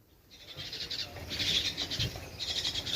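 Sparrows chirp in a Punjab village in the early morning, a faint cluster of repeated high calls coming in short bursts over soft low background noise, with no talking.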